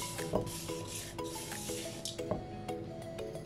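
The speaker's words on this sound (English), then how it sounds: "And I'm going to mix the vinegar in there." Vinegar is stirred into spicy mango pieces in a bowl, producing a soft, continuous rubbing and scraping with small clinks of utensil on bowl, fairly quiet and close, with no talk.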